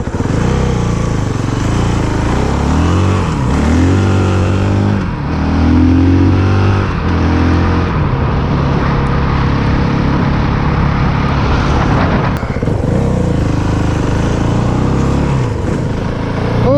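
A Honda CRF450L dual sport motorcycle engine runs steadily and loudly up close on a cold day, with a few rises in revs, continuous throughout and no talk over it.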